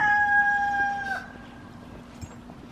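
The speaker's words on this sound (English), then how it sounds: "You ready to go check on the chickens, Pluto?" Chickens at a farm coop with a rooster, a long drawn-out crowing tone in the first second, then sparse soft clucks and scratching over a steady low background hum.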